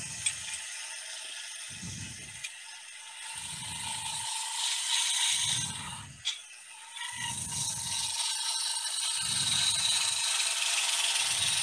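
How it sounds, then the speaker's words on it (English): A woodturning tool taking a planing cut along pine on a lathe, a steady hissing shear of the cut under a rhythmic low rubbing pulse that repeats about every second, close and continuous. "We'll take a planing cut down the outside of it."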